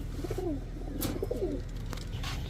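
Pigeons coo softly nearby at a pigeon sale, a few low, rolling calls in quick succession over a quiet background hum.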